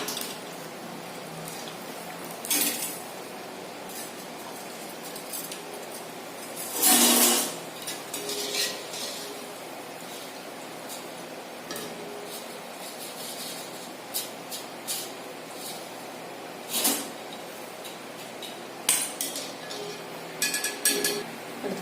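Fried Kerala snacks, madhura seva and pakkavada, are scooped from a pan of hot oil, with scattered metal clinks and scrapes of utensils over a faint steady sizzle.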